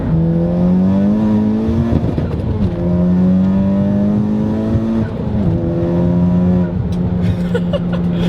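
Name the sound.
turbocharged car engine revving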